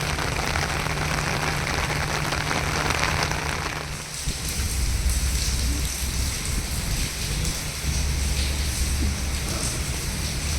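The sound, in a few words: heavy rain falling outdoors in Pune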